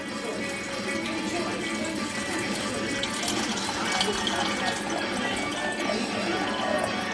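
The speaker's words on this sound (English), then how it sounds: "Okay, so you just use normal tap water" Tap water runs steadily into a container holding dried chickpeas for soaking, with a continuous close rushing splash at a constant level.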